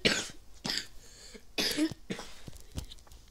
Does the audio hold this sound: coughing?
yes